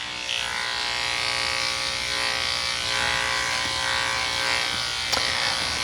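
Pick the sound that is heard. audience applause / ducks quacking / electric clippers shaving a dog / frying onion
electric clippers shaving a dog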